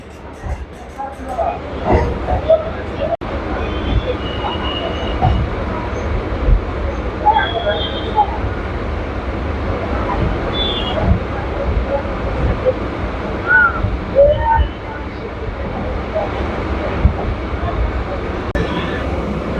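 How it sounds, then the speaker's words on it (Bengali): A Kolkata suburban train runs from Sealdah toward BBD Bagh, giving a steady loud rumble of wheels and carriage noise with faint squeals throughout, heard from inside. "কাঁটায় কাঁটায় পাঁচটা বেজে আট মিনিটে ট্রেনটি ছেড়ে দিল"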